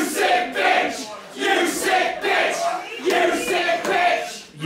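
A wrestling crowd at an intergender falls-count-anywhere match roars and shouts in loud surging waves, rising and falling repeatedly throughout with no clear individual voices.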